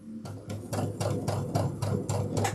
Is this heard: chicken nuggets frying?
no